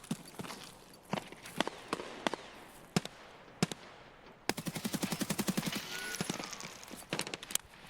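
Gunfire from an AKS-74U rifle in a video game: scattered single shots at first, then a dense rapid burst of loud automatic fire with sharp cracks that continues through to the end.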